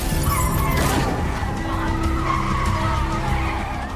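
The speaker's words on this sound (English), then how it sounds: "he crashes the car into a wall to give Lucas and Miguel time to run." A car skids hard and slams into a wall while being chased and shot at around corners, giving a loud, sustained rumble of engine and scraping tires that stays dense for about four seconds.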